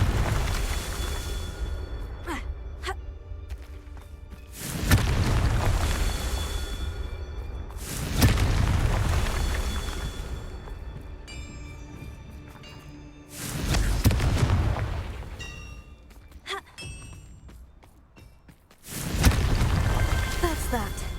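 Repeated Confringo blasting-spell explosions in Hogwarts Legacy, four or five deep booming blasts spaced a few seconds apart, each with a rumbling tail. No talk between them.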